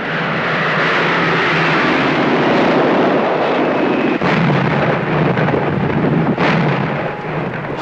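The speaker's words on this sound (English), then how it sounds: "sky raiders prepare the way with their terrifying napalm bombs" Skyraider aircraft dropping napalm bombs in Vietnam in 1965 make a loud, continuous roar of engines and heavy rumbling blasts, dense and unbroken for the whole stretch, with no speech heard.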